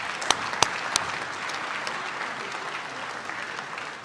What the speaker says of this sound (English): give them a nice round of applause for your support year-round